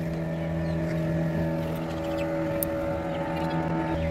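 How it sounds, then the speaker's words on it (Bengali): High-speed motorboats returning across the Masanjore Dam reservoir, a steady droning engine hum with layered tones, moderately loud and continuous with no talking. "এবার বোট ফিরছে প্রচণ্ড স্পিডে, হাই স্পিড বোট এগুলো।"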